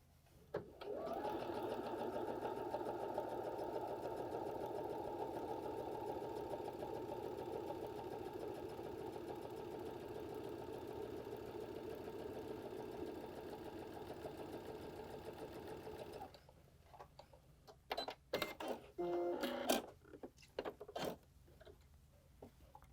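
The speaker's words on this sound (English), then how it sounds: "I'm going to place my second notch right here on the seam of my fabric, and my needle is going to stitch over to the side." Baby Lock sewing machine stitching along a fabric seam, a steady close whirring hum that runs unbroken for about sixteen seconds, then stops and gives way to a few short mechanical clicks and handling noises.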